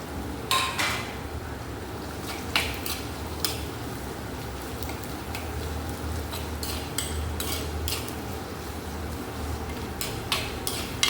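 Sliced onions sauté with ginger-garlic paste in a pan for a Kottayam-style sardine curry with kudampuli, giving a steady low sizzle broken by scattered sharp clinks of a spoon against the pan, with no talking.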